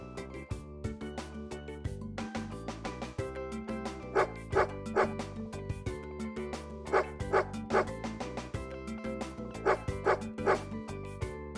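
A dog in a children's learning game barks in short, repeated yips and bow-wows that stand out clearly over background music.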